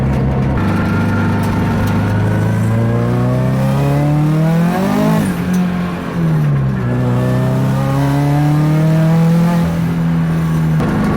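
A turbocharged FRS with a titanium straight-pipe exhaust and the resonator deleted drones loudly and steadily, its deep engine note rising and falling through revs as the car drives, with no talk.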